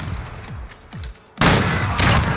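Sniper rifle gunfire in Call of Duty Modern Warfare: a few quieter distant shots, then two loud, sharp cracks close by with a ringing tail, no talking.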